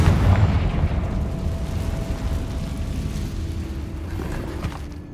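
A Confringo blasting spell goes off in Hogwarts Legacy with a loud, heavy explosion. A deep boom at the start fades into a rumbling, crackling tail that lasts several seconds, with no talking over it.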